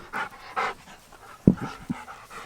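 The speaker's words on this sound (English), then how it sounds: "Look at this big dog." A big dog pants in quick, close breaths, with a few short huffs and soft throaty sounds.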